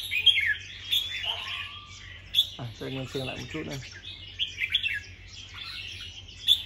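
A red-whiskered bulbul of a rare showy variety calls with repeated bright chirps and short warbling phrases, close and clear, while someone speaks briefly in the middle over a low hum.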